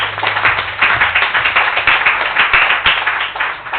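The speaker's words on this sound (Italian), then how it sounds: "Ma è un applauso" Audience at a conference panel breaking into applause, a dense and loud burst of many hands clapping that continues steadily from start to finish.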